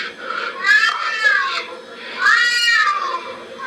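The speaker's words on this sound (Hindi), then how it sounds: "बिल्ली का रोने का आवाज ऐसा लग रहा है।" A cat meows in two drawn-out, rising and falling cries with a short pause between, fairly close and clear, with faint background noise.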